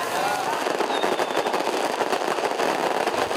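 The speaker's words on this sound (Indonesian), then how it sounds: "Pesta kembang api menandai puncak perayaan ulang tahun ini." Dense, continuous crackling bursts of fireworks at an anniversary celebration in Jakarta going off in rapid succession, loud and sustained throughout, with a faint crowd murmur beneath.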